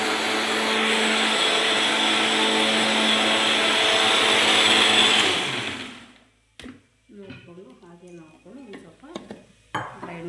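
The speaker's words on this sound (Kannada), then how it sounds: "ಸ್ವಲ್ಪ ನಾನಿವಾಗ ಜಸ್ಟು ಇದು ತೆಂಗಿನಕಾಯಿನ ಗ್ರೈಂಡ್ ಮಾಡ್ತೀನಿ" A kitchen mixer grinder blitzes coconut with water in a loud, steady whirring roar for about six seconds, then cuts off abruptly, and a voice speaks afterward.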